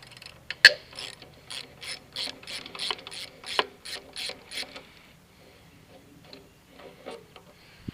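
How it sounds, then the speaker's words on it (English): A ratchet wrench clicks in quick bursts while removing the bolts from the gas tank of a Honda CRF250L, a close run of rapid pawl ticks in a steady rhythm that fades to sparse clicks. "Remove the bolts from the gas tank."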